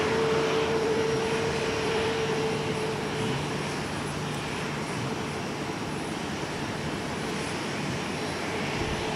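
Jet airliner engines at Minneapolis–St. Paul Airport, with a Delta flight pushing back from Concourse G at Terminal 1, make a steady, loud broadband roar that holds for the whole stretch, with a faint steady tone fading partway through.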